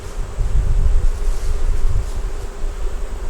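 Honey bees swarm around stacked deep 8-frame hive boxes, a steady low buzz blended with wind rush across the microphone, with no voices.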